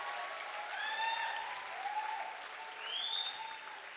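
An audience at a success-story event claps steadily for a mentor, a soft, fairly distant wash of applause with a few thin whistling tones rising above it.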